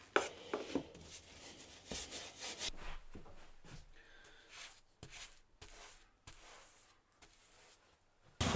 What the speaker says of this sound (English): now I'm going to get some beeswax oil rubbed into this and buffed off.